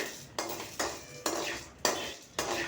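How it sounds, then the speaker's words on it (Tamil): Chana dal, about a hundred grams, dry roasting in a hot kadai, stirred so the lentils rattle and scrape against the metal in repeated bursts roughly every half second. The sound is close and clear, with no talking. "கடாய் சூடானதும் நூறு கிராம் கடலைப்பருப்பு சேர்த்து நல்லா நம்ம வறுத்துக்கலாம்"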